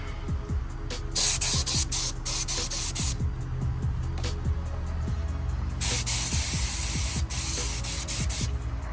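Spray gun laying base coat paint on a car, with bursts of loud hissing spray in repeated passes and brief pauses between them, the longest bursts near the start and again toward the end.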